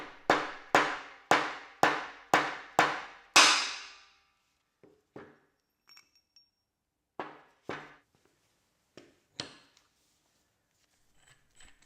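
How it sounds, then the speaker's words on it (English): Soft face hammer knocking a shaft out of an upturned lathe cross slide: seven firm, evenly spaced blows ring out close by, followed by scattered lighter taps and small metallic clinks. "flip over the cross slide and use a soft face hammer to release the shaft."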